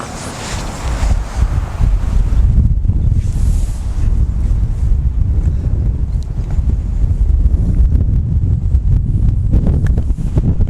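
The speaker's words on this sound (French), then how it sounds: "Et un coup de rafale de vent en même temps que je joue." A strong gust of wind buffets the microphone on an outdoor mini golf competition green, a steady low roar with rushing noise that swells and fades across the whole stretch, with no voices.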